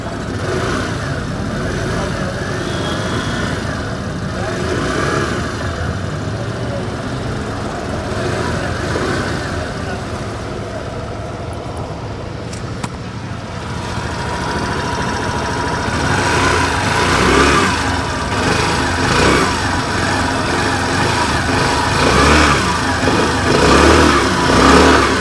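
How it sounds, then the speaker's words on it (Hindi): A 2023 Suzuki Access 125 Special Edition scooter engine runs close by, idling with a steady mid-pitched exhaust note, then rising in a few throttle blips toward the end. "इंजन साउंड सुनिए और इसका एग्जॉस्ट नोट भी सुनिए।"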